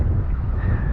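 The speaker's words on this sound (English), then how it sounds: "A little bit of wind here now, a little bit of chop as well." Wind buffets the microphone while wing foiling over choppy water, a loud, low, steady rumble filling the whole brief moment with no voices.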